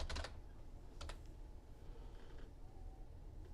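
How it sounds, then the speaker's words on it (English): Keystrokes on a computer keyboard, a few distinct clicks near the start and around one second, then faint scattered taps under a steady low hum, quiet and close. "we're typing in for our reply here"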